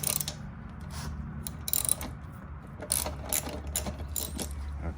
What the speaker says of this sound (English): To get the seat, you need your 12 millimeter socket.